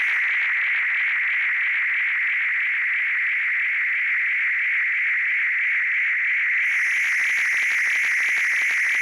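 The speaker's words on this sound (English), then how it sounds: "you get lots of distortion." Tape feedback with the volume cranked up gives a loud, sustained, distorted tone that drones steadily and then turns rougher and more crackly near the end, with no talking.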